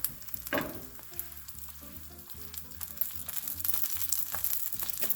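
A sausage and peppers quesadilla sizzles in a pan after being flipped, a soft close crackling hiss with a brief scraping sweep near the start, under a quiet background of music.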